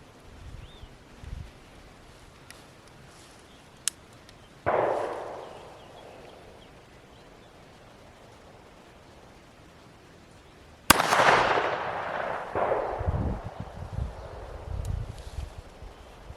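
Two sharp reports from a Trailblazer Lifecard .22 single-shot carry pistol, fired several seconds apart outdoors, each a loud crack with a decaying tail, over wind and light rustling.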